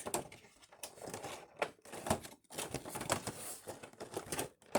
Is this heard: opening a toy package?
yes